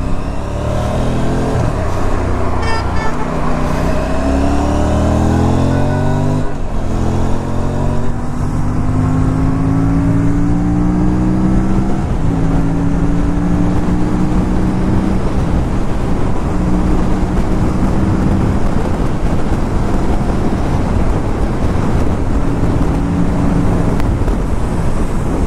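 A group of Aprilia RS 457 motorcycles rides off, engines droning with rising gear-shift revs under heavy wind roar on a close onboard microphone, steady and loud throughout.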